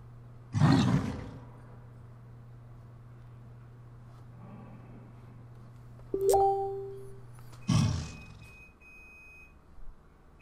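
A phone's alert tones sound briefly in the middle, a couple of short clear beeps amid roaring game sounds from a Pathfinder Kingmaker session, with no talk.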